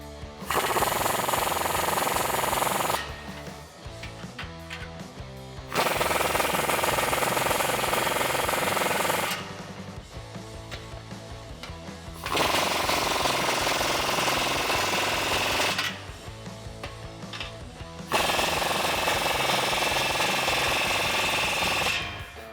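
Impact or air tools tighten exhaust hardware on a 2015-2019 Ford F-150 3.5L EcoBoost during a Borla Touring dual exhaust install, with loud rattling bursts of several seconds alternating with quieter pauses, no talk.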